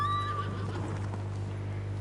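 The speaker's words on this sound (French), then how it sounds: "C'est vrai, tu es un bon cheval, mon petit Kage." A horse whinnies in the samurai video game Ghost of Tsushima, one short loud neigh at the start trailing into steady ambient game background sound.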